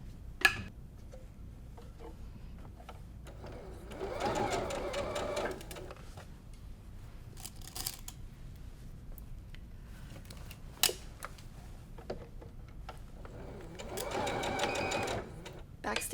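A sewing machine stitches quilt borders in two short bursts of rapid mechanical chatter, with quiet clicks and fabric handling between and a voice speaking at times.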